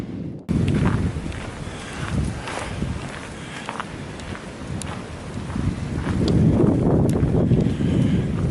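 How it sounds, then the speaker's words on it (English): Wind gusting outdoors in cold weather, a steady rumbling buffet across the microphone that swells louder toward the end, with faint scuffing movement underneath. "Still cold out here and windy"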